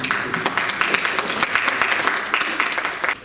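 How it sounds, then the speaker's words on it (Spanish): Applause at a legal seminar hosted by the Colegio de Abogados in Arequipa greets a Ministerio Público prosecutor and university lecturer, a fairly sparse roomful of clapping with distinct individual claps, steady for a few seconds and then stopping. "Lo recibimos con un fuerte aplauso"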